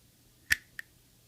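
A balisong butterfly knife's latch clicks into place. Two small, sharp, close clicks land a quarter second apart in an otherwise quiet room, the first louder than the second.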